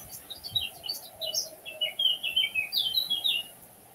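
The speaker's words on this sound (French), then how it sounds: "j'écoute le vent, j'écoute les oiseaux" Small birds sing in a forest, a quick run of high chirps and trills close by over soft steady background hiss, rising in activity toward the middle and easing off at the end.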